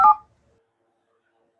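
A mobile phone keypad gives a single short, clear dialing tone at the start, loud and close, followed by near silence.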